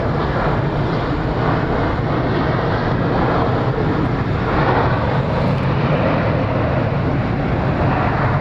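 A jet airliner roars loudly and steadily on approach to land at Incheon International Airport in Seoul, South Korea, its engine noise broad and constant throughout without pause.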